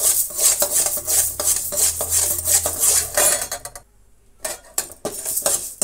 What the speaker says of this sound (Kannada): ಉದ್ದಿನ ಬೇಳೆ ಹಾಕ್ತಾ ಇದ್ದೀನಿ ಅದನ್ನು ಉರಿಯೋಣ